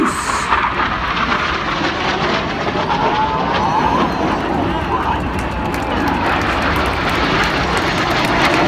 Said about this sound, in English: Now, looking left, here comes a lone jet.